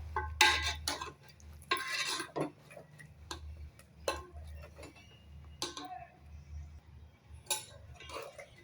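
A pressure cooker of mutton curry being opened after the gas is released, then stirred, with repeated light metallic clinks and taps of lid and spoon over a low steady hum, close and quiet.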